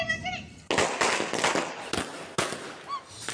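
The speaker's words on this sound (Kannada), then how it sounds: "ಮಕ್ಕಳೆಲ್ಲ ಪಟಾಕಿ ಎಲ್ಲ ಹೊಡಿತಾಯಿದ್ರು" Children set off firecrackers during summer holidays: a string of sharp, loud bangs and crackling bursts in quick irregular succession, some overlapping, with voices and a whistle-like squeal around them.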